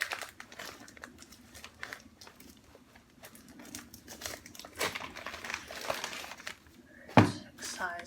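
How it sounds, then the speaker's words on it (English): Packing tape being peeled and pulled from a cardboard box of orchids, with crinkling, rustling and scraping handling sounds, close up and fairly quiet, with a sharper ripping burst near the end; a person talks intermittently over it. "A lot of packing tape here."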